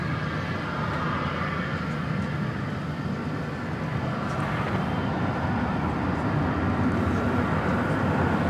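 A Boeing 737-800 jet at DFW Airport gives a steady, moderately distant engine roar with broadband rumble and a soft whine, continuous for the whole stretch without talk.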